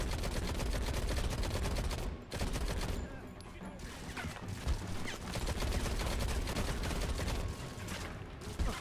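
Gunfire in a PC shooting video game: dense, rapid bursts of automatic fire and overlapping shots that continue almost without pause, loud and close, with brief gaps.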